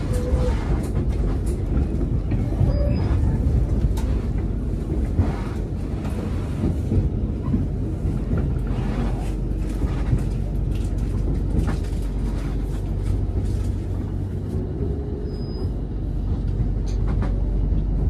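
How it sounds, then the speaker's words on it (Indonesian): Steady low rumble and rattle of a passenger train riding the rails, heard from inside as it overtakes a long container freight train, with continuous wheel and carriage noise and faint occasional squeals, no talk. "Kita menyusul kereta barang"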